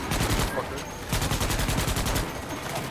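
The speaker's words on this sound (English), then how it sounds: "Just start shooting him." Rapid automatic gunfire from the Starship Troopers Extermination video game rattles in loud, dense bursts, the shots overlapping into a continuous fusillade with a brief pause in the middle.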